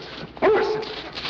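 A single loud bark from a big, friendly puppy, close and sharp, with a short whimpering tail over a quiet background.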